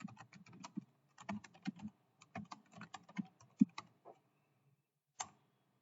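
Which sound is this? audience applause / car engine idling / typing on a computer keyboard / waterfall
typing on a computer keyboard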